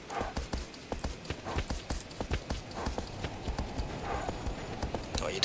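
A horse gallops in Shadow of the Colossus, its hooves pounding in a fast, steady, loud rhythm close by that continues without a break, with faint wind and ambience underneath.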